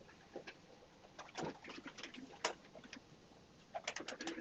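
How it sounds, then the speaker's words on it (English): A pigeon cooing on a roof, soft repeated coos and rustles at moderate distance, fairly faint against the background, with no one talking. "got a bird out on the roof"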